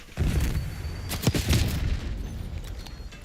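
A grenade bursts in Call of Duty Black Ops 6 gameplay, a heavy booming blast with sharp cracks of gunfire layered in, followed by a rumbling decay.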